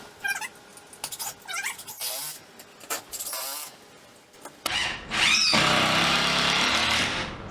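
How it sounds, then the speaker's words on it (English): Power drill drives screws into a board laid on the ground for attic stairs, with short whirring bursts followed by a longer, louder sustained run near the end. "I'm going to start these screws on the ground."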